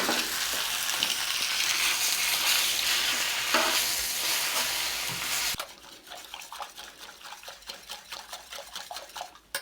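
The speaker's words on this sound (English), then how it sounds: "I'm going to get some charred spinach onto the plancha just to get soft" Spinach with butter sizzles and crackles loudly on a hot plancha, a dense steady hiss for about five seconds that drops abruptly to quieter, intermittent spitting and stirring scrapes.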